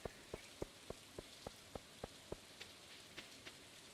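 Green acid rain falls in a farming video game, a quiet run of evenly spaced droplet taps over a soft hiss of rainfall, with no voices.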